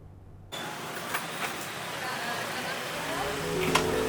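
Motorbikes and cars pass through a busy town-centre intersection in Padang Panjang, with a steady loud wash of engine noise and passing vehicles after a quiet start.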